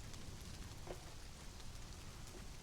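Steady rain pattering in the Conan Exiles video game, a faint even hiss of falling rain with scattered drop taps and no talking.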